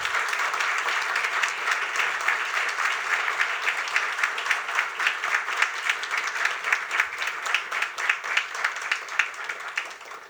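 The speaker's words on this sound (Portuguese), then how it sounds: "Eu peço uma salva de palmas para a Berenice." An audience at an academic induction ceremony gives a sustained round of applause, a dense, even clapping that carries on for about ten seconds at moderate loudness, with no voices over it.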